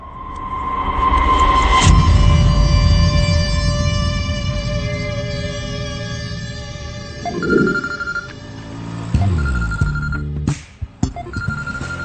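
Telephone ringing for a friend's call in an Indian action film scene, a loud bright electronic ring tone sounding over a low rumbling background, then fading as sharper clicks and tones follow near the end.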